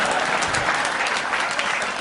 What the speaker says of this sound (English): Let's give 3 of them a nice round of applause there.